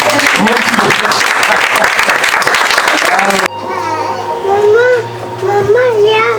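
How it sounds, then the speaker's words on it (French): A church congregation bursts into dense, loud applause for the first half, then the clapping cuts off and a voice carries on speaking over a low hum. "acclamons le Seigneur"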